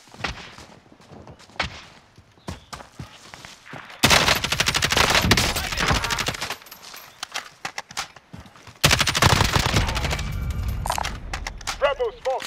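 Bursts of small-caliber gunfire in Call of Duty: Modern Warfare, with sharp rapid shots in loud clustered volleys separated by quieter stretches and scattered single cracks.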